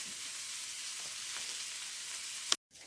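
Bologna slices fry steadily in a pan, giving a continuous close hiss and sizzle with faint pops, ending in a sharp clunk and then near silence.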